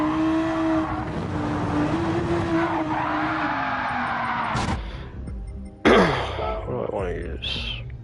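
A race car engine in Gran Turismo 7 holds a steady droning whine that shifts pitch slightly, then cuts out into sharper menu-like tones, with someone talking over it.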